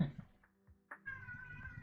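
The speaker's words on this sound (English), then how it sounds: "My cat doing the meows." A pet cat meows close by, one short meow followed by a longer drawn-out call, with faint game sound behind it.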